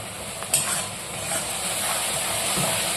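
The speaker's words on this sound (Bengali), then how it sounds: "খুব ভালো করে আমার মশলাটা কষে গেছে" Sautéed masala for a cauliflower bhetki kofta curry sizzles in a pan as it is stirred, with a sharp clatter early on and a steady frying hiss that continues.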